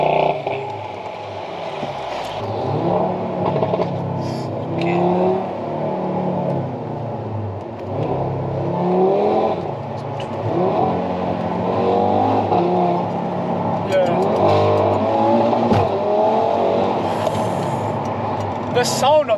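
Stock Audi RS3 accelerating hard from a launch, its engine rising and falling through repeated revving surges heard from inside the car, with voices talking over it.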